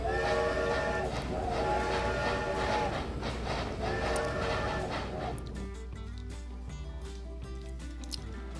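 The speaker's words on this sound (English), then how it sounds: "And we have 2 trains arriving at the station at once." Two trains pull into a station together in a railway video game, a steady rumbling roll with tonal horn-like bands that fade after a few seconds into a quieter hum, with no talk.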